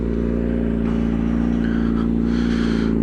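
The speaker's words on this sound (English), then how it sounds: "Obnoxiously loud motorcycle, non-Harley Davidson" A loud non-Harley-Davidson motorcycle engine runs nearby at a steady, heavy idle with a deep throbbing rumble and mild mechanical clatter, continuous and without clear revving peaks.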